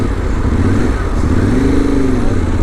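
Yamaha Tenere 700 motorcycle, 2023 model, pulling away at just over 2,000 rpm around 50 km/h: a steady, loud engine drone with a rising harmonic sweep as it accelerates, mixed with constant wind rush.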